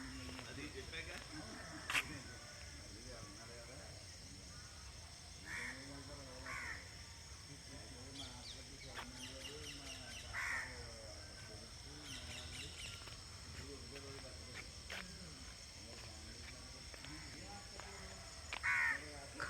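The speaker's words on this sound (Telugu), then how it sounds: "కాకి దీని మీద నుంచొని చూడండి, కావు కావు కావు కావు అంటుంది." A perched crow caws repeatedly in short, spaced calls in the Konaseema countryside, moderately close over a faint outdoor background, and a voice talks quietly in between.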